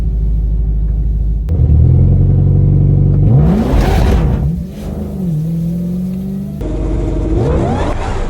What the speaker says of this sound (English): we get a good burnout.